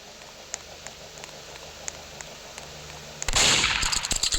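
A water gun fired in a video game: faint scattered ticks give way to a sudden loud, hissing spray burst with rapid crackling pulses that lasts about a second.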